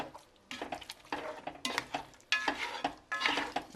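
Food mixed around in a pot with a utensil, scraping and sloshing bursts in several separate strokes, fairly close and moderately loud, with no talk.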